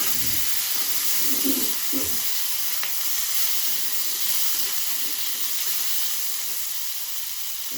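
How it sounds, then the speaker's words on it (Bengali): Pumpkin pieces frying in a pan for a shrimp curry make a loud, steady hissing sizzle with a few soft low knocks early on, close up with no talking. "এখন আমি কুমড়োটা দিয়ে ভেজে নেব।"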